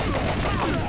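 A burst of arcade gunfire from the light-gun shooter Time Crisis, a dense, loud rattle of shots packed into under a second.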